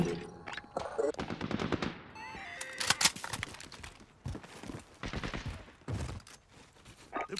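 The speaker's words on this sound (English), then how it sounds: "Friendly sentry gun online." Automatic sentry gun firing in Call of Duty: Modern Warfare, dense bursts of rapid gunfire rattling through a busy battlefield mix with other shots, clanks and game voice callouts layered over it.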